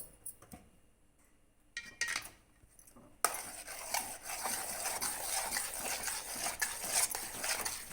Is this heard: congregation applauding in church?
no